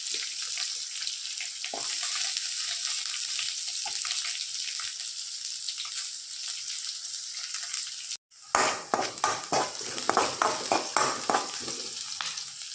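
Onions frying and sizzling in a pan with curry leaves and black pepper, a steady hiss that breaks off briefly and returns louder with crackling, stirred bursts.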